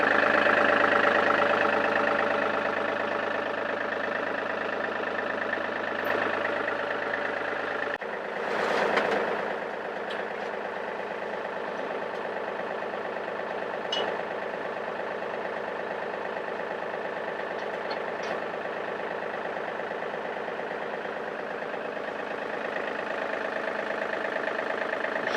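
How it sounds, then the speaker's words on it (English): Ranch tractor engine idling steadily and close by, a continuous low rumble with a brief louder surge partway through and no talking. "bring the tractor over"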